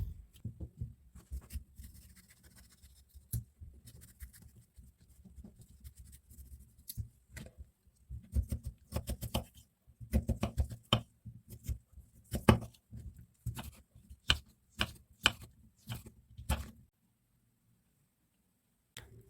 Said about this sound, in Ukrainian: Свіжий огірок нарізаю кубиками.